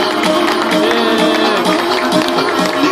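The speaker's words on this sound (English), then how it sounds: "Let's give them a nice round of applause one more time" Crowd at an outdoor road-mile race award ceremony in New York applauding the women's winners, loud continuous clapping and cheering with a busy, close texture and some voices mixed in.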